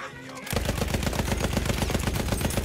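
A light machine gun in a video game opens up after a short quiet moment and keeps firing in a fast, even, sustained burst, loud and close.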